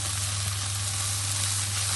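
Mixed Mediterranean vegetables, aubergine among them, sizzle in a pan with an even, close hiss over a low steady hum, with no stirring or voices.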